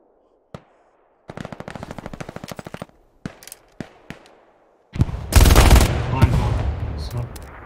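WW2 machine guns such as the MG34, MG42 and M1919 Browning fire in Hell Let Loose, a lone shot then a long rapid burst, scattered single cracks, and a loud close barrage ending in reverberating blasts.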